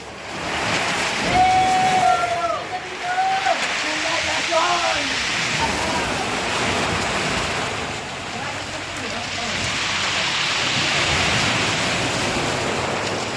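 Strong ocean surf pounds the shore at Butas Butas beach in Mauban, Quezon, a loud, continuous wash of breaking waves with swelling surges, while a few voices call out faintly early on.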